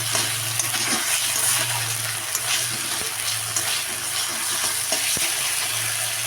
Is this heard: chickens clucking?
no